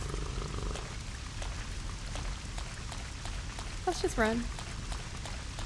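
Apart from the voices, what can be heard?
rain in video game Resident Evil Code Veronica X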